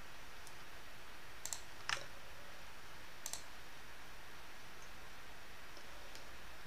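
Computer mouse clicks while working in FreeCAD: a few faint, sharp single clicks spaced irregularly over quiet background hiss, with one close double click.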